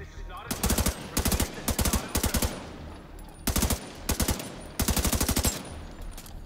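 Machine-gun fire in Tom Clancy's The Division 2, rattling out in about seven short, sharp bursts with brief gaps between them, close and loud over a quieter background.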